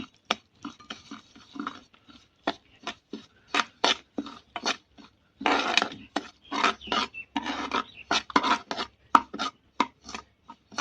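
Semolina roasting in hot ghee for suji besan halwa, heard as a close series of short scraping and stirring strokes against the pan in an uneven rhythm, with no talking.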